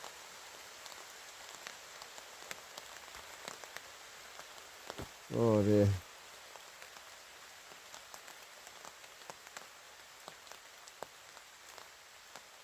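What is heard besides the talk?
heavy rain during a thunderstorm at a woodland camp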